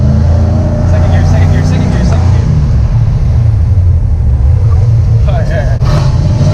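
A Ford Mustang with a manual gearbox driving in second gear gives off a steady, loud low engine drone that runs throughout, with a brief rise in revs near the end as a voice talks over it.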